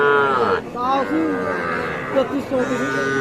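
Nepali Gir cattle at a Bangladeshi cattle market, one animal close by letting out a loud, drawn-out moo followed by further lowing, with voices talking in the background.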